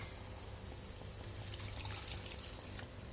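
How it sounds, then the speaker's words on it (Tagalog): Water pours steadily into a cooking pot for miki noodle soup with patola (sponge gourd), a soft continuous splashing trickle heard close and alone at a low level. "Siguro mga 2 basong water ang ilalagay."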